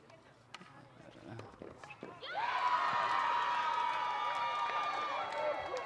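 At a women's doubles tennis match, a crowd bursts into loud cheering and whistling partway through and keeps up a sustained roar, with a commentator talking over it and scattered footsteps and thuds beforehand.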